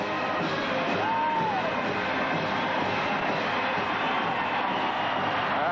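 Olympic ice hockey arena crowd celebrating a win, a dense continuous roar of cheering and chanting from a large mass of spectators, broad and steady with a faint whistle rising above it.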